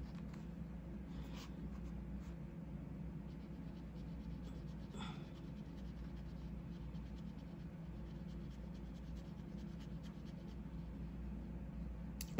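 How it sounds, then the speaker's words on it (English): A TWSBI Eco fountain pen filled with Lamy Dark Lilac ink scratches softly across paper, faint close nib strokes with occasional sharper ticks over a low steady background hum. "But for the writing sample, I'm just going to write."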